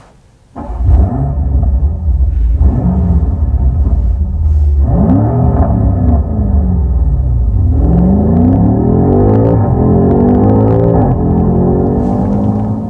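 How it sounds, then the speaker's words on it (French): A powerful BMW M5 engine sound revs and accelerates, a loud, deep roar rising and falling through several gear pulls, close and continuous with no talking. "Voici le son d'une BMW M5 par exemple."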